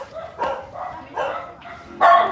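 Dogs barking nearby indoors: several sharp barks and yips in an uneven rhythm, fairly loud, with no speech over them.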